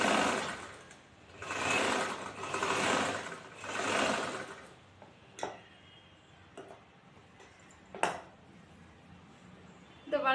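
Domestic sewing machine stitching chudithar fabric, running in three rhythmic bursts of whirring stitches, then stopping for quieter handling clicks and a sharp knock, close up and with no talk.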